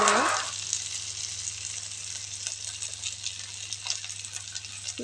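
Garlic paste sizzles and fries in a pan with prawns, a steady close hiss with faint scraping as it is stirred, a louder burst at the start settling into an even crackle.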